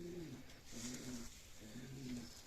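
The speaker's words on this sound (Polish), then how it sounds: "Szybkie bardzo to są gołębie." Pigeons cooing nearby in soft, repeated low calls, about three coos against a faint background hiss.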